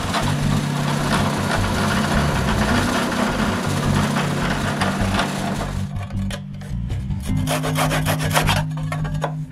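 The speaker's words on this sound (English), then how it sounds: "I clamp that to a big square piece of wood and drill the holes." A power drill whirs steadily through a large square piece of wood, loud and continuous, with a brief dip before the grinding hum resumes.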